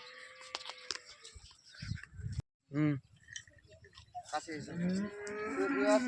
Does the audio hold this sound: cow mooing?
yes